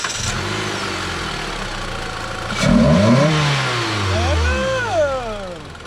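A car engine fitted with a K&N cold air intake revs up sharply from idle, rising and falling through a couple of loud close throttle blips before settling back.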